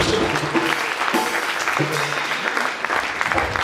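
Applause rises in a church congregation, sustained clapping from a crowd with some voices and shouts mixed in, fairly loud and close.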